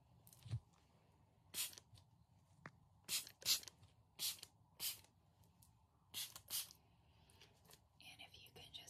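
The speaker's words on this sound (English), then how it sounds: "I'm just going to pop a little bit of heat protection spray on" Heat protection hair spray is misted onto hair during a salon-style ASMR session, producing several short, close hissing bursts spaced irregularly. Soft whispering is heard between the sprays.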